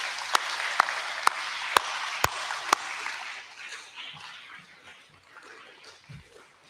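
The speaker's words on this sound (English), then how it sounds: "So another round of applause for your teachers." Applause for teachers at a seventh-grade awards ceremony starts with a few sharp, distinct claps at regular intervals over a soft background of clapping, then fades into quieter crowd murmur.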